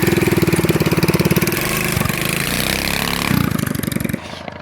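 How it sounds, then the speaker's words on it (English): A restored abandoned shifter kart engine runs loudly and close, a rapid pulsing mid-pitched drone that idles rough, rises briefly, then cuts off near the end, with no talking. "Man, it's good to see this thing running with an engine."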